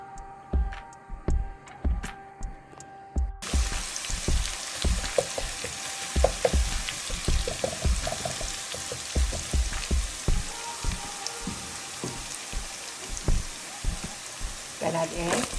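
Garlic and onion frying in butter in a pan, a steady crackling sizzle with scattered pops and stirring clicks, loud and close, rising fuller after the first few seconds.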